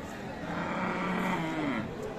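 Friesian cow at a livestock market in Aftabganj, Dinajpur, sounding a single drawn-out low moo against a steady background of crowd murmur.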